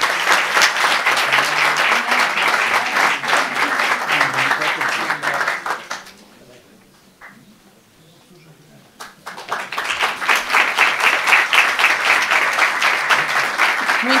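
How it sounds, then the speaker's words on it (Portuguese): A crowd applauds loudly, steady clapping that fades briefly to near quiet before swelling up again into sustained applause. "Uma salva de palmas."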